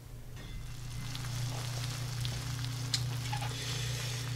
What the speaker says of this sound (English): Give these a nice little quick stir, and what we'll do is let these sit down for a little bit and kind of sweat down.